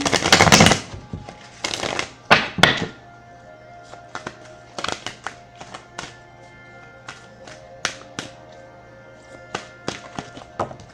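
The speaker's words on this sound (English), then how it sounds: "And then one more shuffle." Deck of oracle cards being shuffled by hand, a burst of riffling at the start followed by scattered soft taps and card slaps, close and fairly quiet.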